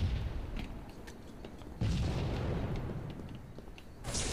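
Muffled grenade and weapon blasts in a Halo 3 multiplayer match, a continuous rumbling barrage with a sharp rise in loudness midway and scattered pops over it.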